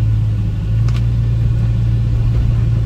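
A 1977 Ford Thunderbird speeds up on a test drive, its steady low engine drone and road rumble loud and constant throughout, with no voices heard.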